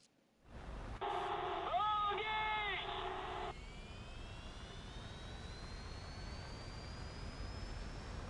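An airplane passes overhead, a steady broadband jet roar with a thin whine that slowly rises in pitch. A brief burst of other sound and possible voices sit near the start.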